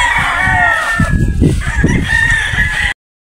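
Battle stag roosters crowing loudly and close, overlapping calls with clucking fowl in a continuous burst that cuts off abruptly.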